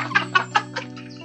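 A chicken clucks close by in four short, evenly spaced bursts, with a steady hum underneath.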